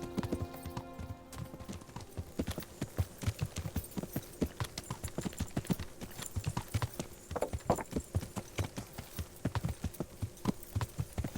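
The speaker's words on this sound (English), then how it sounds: "gonna sprint it by way of horse over that way" Horse hooves clip-clop in a steady galloping rhythm in the medieval role-playing game Kingdom Come: Deliverance, loud and close throughout, with an occasional faint whinny and a soft tonal background.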